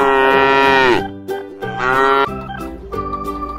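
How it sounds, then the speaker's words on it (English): A buffalo animal toy lets out a long, deep moo, then a second drawn-out moo and a shorter third call, loud and close with brief gaps between. "Buffalo."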